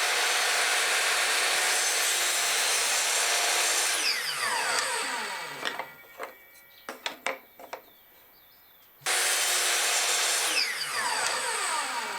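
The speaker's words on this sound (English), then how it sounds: "this time I'm going to cut the joints using my miter saw" A miter saw cuts joints for a small wooden storage bin, its motor spinning up into two sustained loud cuts separated by a quieter pause with scattered clicks and knocks from handling the wood.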